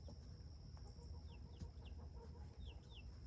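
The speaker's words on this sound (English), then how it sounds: "I'm gonna go ahead and give them some chicken feed so they can stop following me" Several chickens cluck softly and intermittently while following someone for food outdoors, short rising calls repeating over steady background noise and a high insect-like hum, fairly faint and with no talking.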